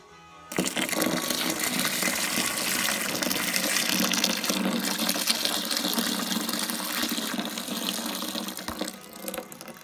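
Filtered water gushes steadily into a home brewing vessel, a loud continuous pour that starts abruptly and runs without pause, with no talking.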